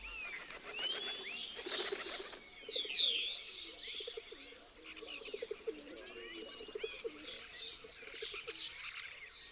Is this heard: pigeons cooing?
yes